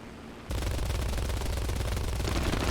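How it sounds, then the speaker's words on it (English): Sustained rapid fire from an aircraft's front machine guns in the War Thunder combat game, starting abruptly after a half-second of engine drone and continuing loud and dense to the end, with no voices. "utilise my front guns in the header"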